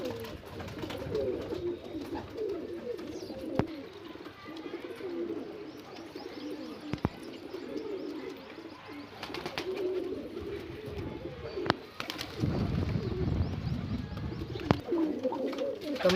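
Pigeons coo repeatedly in a loft during summer, their low throaty calls rolling on and off close by, joined now and then by wing flutters and small knocks and rustles.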